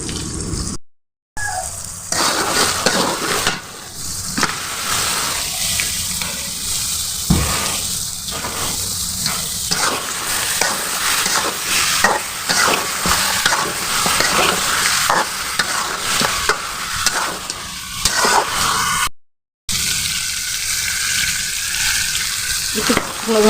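Desi farm chicken with ground garam masala and dry chili fries and is stirred continuously in a pan, sizzling loudly with constant scraping and clattering throughout.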